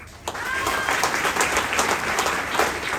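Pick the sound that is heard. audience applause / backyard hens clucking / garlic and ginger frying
audience applause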